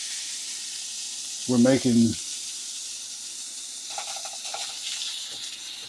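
Cheap beef patties sizzling in a pan for a bacon cheeseburger quiche, a soft steady hiss running throughout, with a brief voice speaking near the start.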